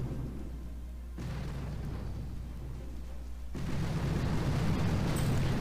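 Loud, sustained rumbling explosions in a video game stronghold raid as rocket launchers are blown up, a continuous heavy roar that swells in two stages, with no speech over it.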